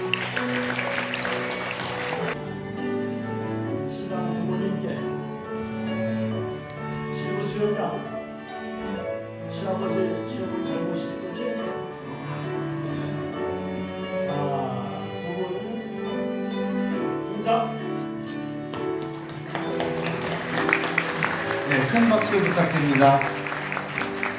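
Applause from wedding guests bursts out over ongoing music at a wedding ceremony, a dense wash of clapping at the start that fades under the melody, then swells again loudly near the end.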